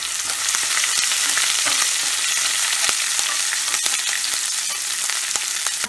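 Chopped green chillies sizzle and crackle steadily in hot oil in a pan, with curry leaves just added, a dense continuous frying hiss with scattered sharp pops, close and fairly loud.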